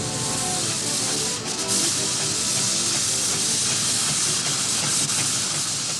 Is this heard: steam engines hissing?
yes